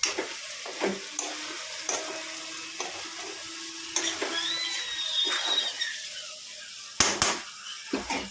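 Mutton liver frying in a pan gives a soft, fairly faint sizzle with intermittent clattering knocks of a spoon, a few sharp bangs toward the end.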